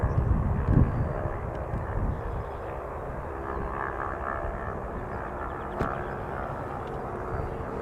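A Porter Airlines Embraer 195 jet arriving from Ottawa at Toronto Pearson makes a steady, moderate engine rumble that holds through the stretch, with a brief swell near the start and a faint click later on.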